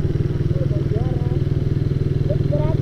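Big motorcycle engines idling in a busy spot, a loud pulsing low-pitched rumble with rapid regular firing beats, and voices in the background.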